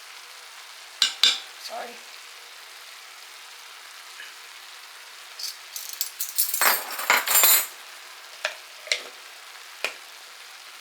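Garlic added to a pan of cabbage gives faint, scattered crackles and sizzles between quiet stretches, with a cluster of louder spits and stirring scrapes midway.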